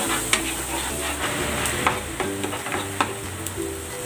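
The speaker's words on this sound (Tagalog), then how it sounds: "Igisa ko na tong bawang. At ang sibuyas." Garlic and onion sautéing in cooking oil for a minced pork dish, a steady close sizzle with a few sharp pops and light stirring clicks, no talking.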